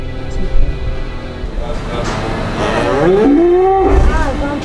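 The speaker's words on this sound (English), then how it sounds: "the cow will bellow out for days" A cow on a dairy farm bellows loudly and near, a long rising-then-falling moo over a rumbling, noisy background with people talking.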